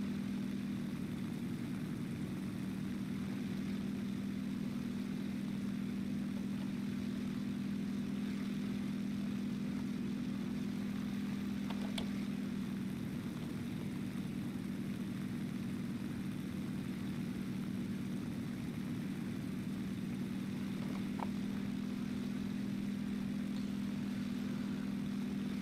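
A Nakajima Ki-44 Shoki fighter engine drones steadily as the plane climbs in War Thunder, a continuous low propeller hum holding level throughout with no talk.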